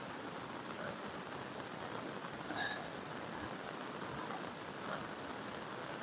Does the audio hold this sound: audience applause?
no